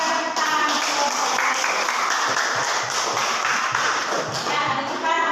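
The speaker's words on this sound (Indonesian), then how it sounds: "Kita yang lain berikan tepuk tangan untuk kelompok" Classroom applause for a student group at a teacher's practice lesson, many hands clapping in a dense, steady patter that continues throughout.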